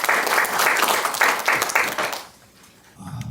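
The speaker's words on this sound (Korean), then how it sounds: "박수로 맞이해 주십시오" An audience at an academic symposium applauds to welcome a speaker, with steady, full clapping for about two seconds before it fades into quiet and a voice begins.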